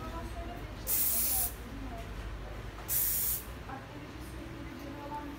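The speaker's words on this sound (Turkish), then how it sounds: "En sonunda spreyimizi sıkıyoruz." Hair spray is misted onto freshly curled hair being styled into a bun updo, in two short hissing bursts a couple of seconds apart, close by over a quiet room background.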